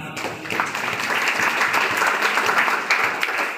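A church congregation applauds during a sermon, a steady full wash of clapping close by that holds evenly throughout.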